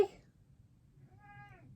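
A long-haired gray cat lets out a single short, faint meow after a brief bump at the start, close by in a quiet room.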